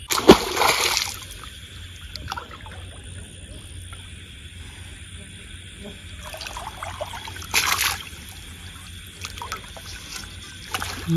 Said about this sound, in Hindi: रात के टाइम जब पानी लगाते हो